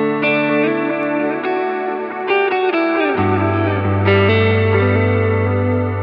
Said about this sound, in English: I have it set to an octave up. Play that same chord.